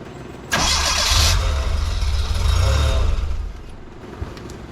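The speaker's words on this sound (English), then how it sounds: "Gonna spin the motor." Starter spinning the engine of a 1984 Bertone X1/9 during an accessory belt change: a loud, close mechanical whir cranks up abruptly and keeps churning steadily for about three seconds before tapering off.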